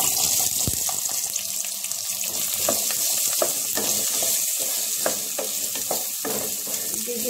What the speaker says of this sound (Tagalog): Gigisa lang po natin ng saglit.